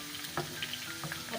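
Tadka sizzling in a pan until golden brown for Punjabi mustard greens saag, a soft crackle with a few brief pops and stirring sounds, quiet and close, with no talk.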